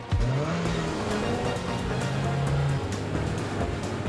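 A Nissan Altima with its fuel-efficient VC Turbo engine drives past with a steady engine drone and tire noise, the pitch rising briefly, then a long sustained tone, with a faint rushing wash underneath.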